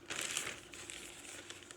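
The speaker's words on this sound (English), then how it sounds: "I'm not exactly sure what this plastic bag's for." A plastic bag crinkles and rustles steadily while a newly delivered weighted vest is unpacked, with soft, close handling sounds and no speech.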